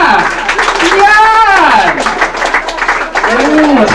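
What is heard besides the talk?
audience applauding at a family reunion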